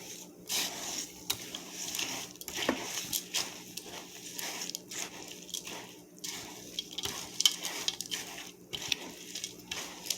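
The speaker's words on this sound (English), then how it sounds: "Give this a nice stir." Bread dressing being stirred after about half a cup of turkey stock is added for Thanksgiving, giving soft, wet squishing and scraping sounds that repeat unevenly and stay close and fairly quiet throughout.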